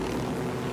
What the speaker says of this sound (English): What the fuck is this chopper doing?